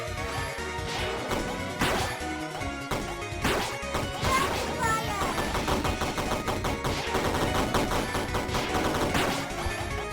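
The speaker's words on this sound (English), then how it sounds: "Rapid fire. Rapid fire! Machine gun!" Rapid machine gun fire rattles through a busy boss fight in an Undertale fan video game, dense repeated bursts layered with crashes, impacts and game music, loud and continuous throughout.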